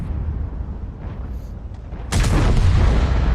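In a tank video game, a low rumbling backdrop gives way to a sudden loud blast under a tank, followed by a sustained roaring aftermath.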